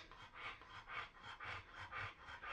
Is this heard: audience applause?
no